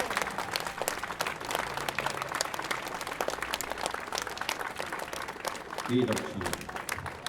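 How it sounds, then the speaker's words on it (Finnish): Audience applause fills a memorial concert hall for the master honoured at the tribute, steady dense clapping throughout with a brief spoken thank-you over it. "Saanko pyytää vielä yhdet taputukset mestarille itselleen?"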